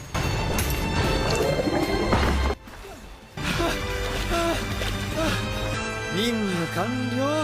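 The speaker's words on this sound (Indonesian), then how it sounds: "Dia menembak kaca mobilnya dari jarak jauh." A car window is shattered by a gunshot fired from a distance in the anime High Card, with a loud crash amid dense soundtrack music and a narrator talking throughout.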